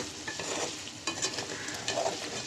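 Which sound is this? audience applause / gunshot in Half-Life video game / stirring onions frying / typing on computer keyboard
stirring onions frying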